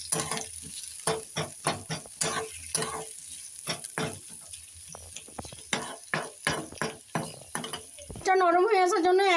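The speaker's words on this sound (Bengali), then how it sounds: "এবার আমি তেলটা গরম হয়ে গেছে, এবার আমি পেঁয়াজটা দিয়ে দেবো তেলের মধ্যে" Chopped onions hit hot oil in a pan, giving a steady crackling fry broken by a run of sharp stirring scrapes and knocks, before a tonal, melodic sound takes over near the end.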